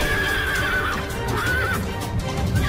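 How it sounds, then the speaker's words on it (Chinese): A wild horse neighs loudly and stamps while fighting off a python, shrill whinnies rising and falling over heavy thuds of hooves close by. "看看这个蟒蛇啊偷袭野马，结果遭到野马的反抗啊，一顿踩"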